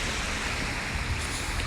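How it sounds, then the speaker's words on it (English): Small waterfall in a park stream in Amsterdam's Westerpark: a steady, close rush of falling and splashing water forms a dense broadband wash throughout, with no talk over it. "that was a little miniature little waterfall thing"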